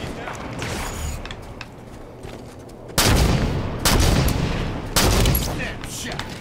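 Light rifle fire in Halo 5 Guardians Big Team Super Fiesta: loud, sharp shots crack at about three, four and five seconds over quieter, distant battle noise, with a player's voice talking beneath.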